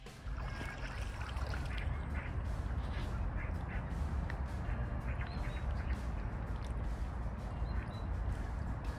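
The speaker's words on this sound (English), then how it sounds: "Out there is a different sort of duck." Ducks quack steadily across an open outdoor soundscape, with a low continuous rumble underneath and several birds calling at moderate distance.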